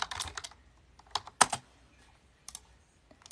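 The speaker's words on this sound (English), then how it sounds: "I'm just trying to type less and make less typos." Sparse computer keyboard typing during a live stream, a few quick clustered keystrokes and a sharper key press, separated by short pauses, fairly close and crisp.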